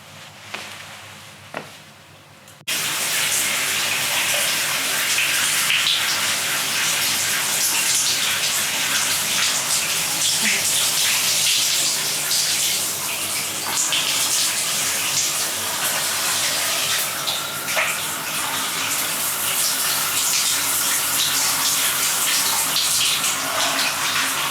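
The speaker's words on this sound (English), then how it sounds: "Surprise shower ASMR." A shower runs steadily in a bathroom, a dense hissing spray of water that bursts on after a few quiet seconds with small knocks, then pours on loudly and continuously, close by and without talk.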